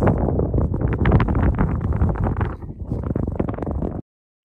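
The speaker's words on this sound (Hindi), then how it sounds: "अभी हवा भी बहुत ज़्यादा तेज़ है" Strong, gusty wind on the Banihal mountain top (Navan) buffets the microphone with a loud, continuous roar for about four seconds, then cuts off abruptly into silence.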